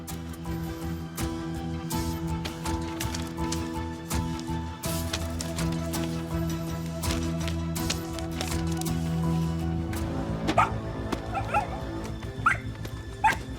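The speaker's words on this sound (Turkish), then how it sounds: "Ne havlıyorsun ya? Ne havlıyorsun?" A dog yelps and whines in short bursts toward the end, over a busy background of clatter and rumbling noise.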